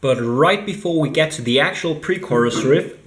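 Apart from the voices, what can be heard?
None of the usual background noises is heard.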